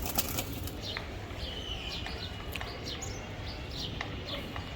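Young racing pigeons in a loft flap their wings in several sharp, brief bursts of fluttering over a steady background hiss, nearby and moderately loud, with a few faint chirps.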